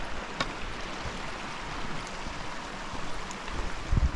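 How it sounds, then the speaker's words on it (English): Prairie Creek flows along a trail in Kananaskis, a faint, steady wash of running water heard alone, with a couple of small knocks near the end. "Always nice to stop and listen to the water for a while."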